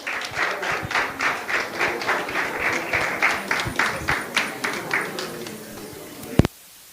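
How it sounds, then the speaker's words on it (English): Audience at a Tobago heritage festival prize giving claps in a steady, rhythmic pattern for several seconds, ending with a loud thump and sudden quiet. "A round of applause, please."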